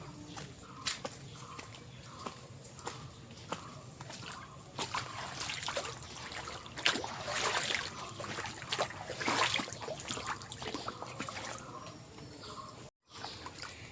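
Someone wading home through a muddy village pond in the rainy season, legs sloshing and splashing through the water in a steady rhythm of close steps, with no speech.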